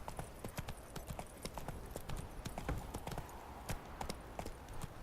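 Roach, a horse in the video game The Witcher 3, trots with steady, rapid clip-clopping hooves throughout, close and fairly loud, the repeated strikes evenly spaced over ambient outdoor noise.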